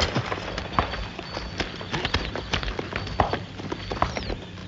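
Horses' hooves clip-clop at a steady walk in a rural region, close and distinct, with a busy irregular rhythm of many hoofbeats and no talk.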